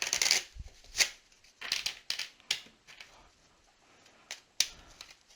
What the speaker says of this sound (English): So give this another shuffle here.